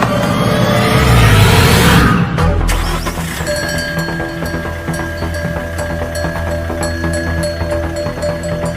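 A car engine revs loudly for about two seconds, then settles into a steady running rumble with a thin whine as the car is backed up.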